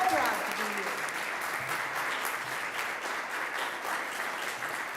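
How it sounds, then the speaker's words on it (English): Audience at an award ceremony applauding an honored student, a steady, even wash of clapping from a large crowd that holds throughout, with a voice briefly audible at the start. "Let's give him a round of applause"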